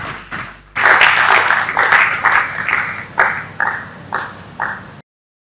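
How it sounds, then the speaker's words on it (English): An audience claps hands to welcome a speaker onto the stage at an agriculture event, with loud applause starting abruptly and then breaking into uneven bursts that fade before stopping. "So let's clap our hands as we welcome Mr."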